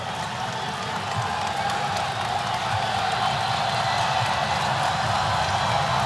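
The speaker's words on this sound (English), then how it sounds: "Crowd only cheers louder." Dense basketball arena crowd at a Rutgers versus Miami college game, steady roaring cheer that holds loud and swells slightly across the whole stretch, with no clear individual claps or voices standing out.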